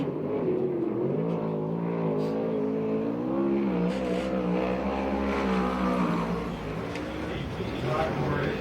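USAC/CRA sprint cars racing on a dirt track at the So Cal Fair in Perris, California, a continuous loud engine drone with wavering pitch as cars circle, a commentator talking over it.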